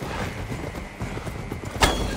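Galloping horse in Assassin's Creed Valhalla, soft rhythmic hoofbeats under a dull rumbling game backdrop, with one sharp louder impact near the end and no talk.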